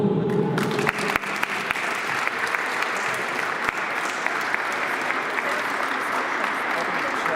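A crowd at a school volleyball tournament in Biała Podlaska bursts into applause that continues steadily and evenly for several seconds, a room full of hands clapping.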